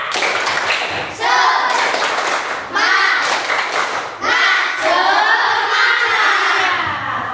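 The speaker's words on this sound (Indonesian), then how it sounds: "Biar agak lebih semangat kita tepuk semangat." A classroom of children claps a rhythmic chant in loud, patterned bursts, with group voices shouting along between the beats.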